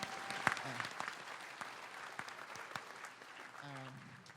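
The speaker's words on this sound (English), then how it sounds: "So a round of applause for that" Scattered clapping from an audience at a Landmark College commencement ceremony on a December day, fairly faint and thin, with a voice speaking over it toward the end.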